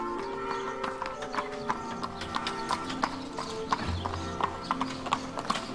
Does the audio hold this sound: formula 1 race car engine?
no